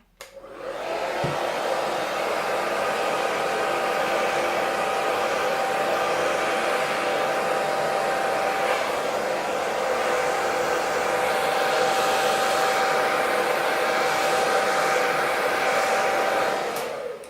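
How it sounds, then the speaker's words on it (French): A hair dryer blows steadily and loudly for the whole stretch, a constant whooshing roar with a faint motor whine, starting and stopping abruptly. "Donc je prends mon petit sèche-cheveux."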